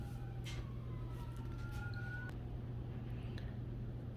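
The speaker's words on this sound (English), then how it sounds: "Sorry I had to pause that because of the sirens" A distant siren wails with rising and falling tones against a steady low hum of traffic, faint and drawn out.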